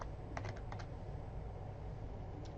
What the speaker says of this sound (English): make sure that you are typing it in the exact fashion twice